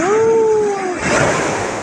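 Broad rushing wash of ocean surf close by at a beach in Bataan, with a voice drawing out a sound over the first second before the water noise continues alone.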